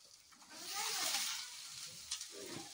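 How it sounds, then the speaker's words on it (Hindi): Turmeric and chili fry in a pan with a soft, close sizzling hiss that swells, fades and flares again over a few seconds. "हल्दी मिर्च भून के तैयार हो गया"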